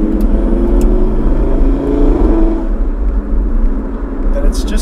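A Stage 3 Audi RS3 making about 510 horsepower pulls hard from inside the cabin, its engine note rising in a steady, loud drone that eases off midway while a driver talks over it.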